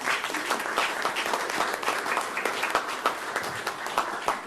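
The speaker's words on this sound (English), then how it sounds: "I'd like to applaud these members of our staff for" Applause for city staff members at a council meeting, a roomful of people clapping steadily and fairly close for several seconds.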